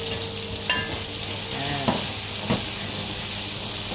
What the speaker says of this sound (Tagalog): Ginisa ko na rin itong lemongrass guys para magkaroon ng aroma yung ating oil